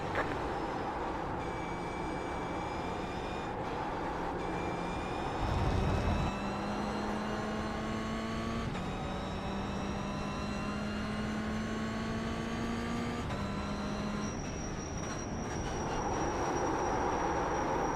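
Race car in the iRacing sim understeering through corners, tyres scrubbing and whining as engine tones rise and fall across several gear changes, with a short burst of noise midway, steady and close with no talk.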